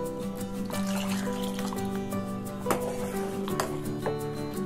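Water is poured into a pot of panangkizhangu (palmyra sprout) soup with cornflour, giving a soft, continuous trickle and splash close by, with a few brief clinks partway through.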